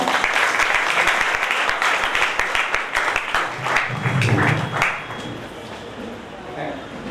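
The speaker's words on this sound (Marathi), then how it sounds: "तुम्ही आता ते लाईट करायचं आणि सर्वजण टाळ्या वाजवायचा आपण." A church congregation applauds as a unity candle is lit at a wedding, a dense burst of many hands clapping that fades after about five seconds while voices carry on beneath it.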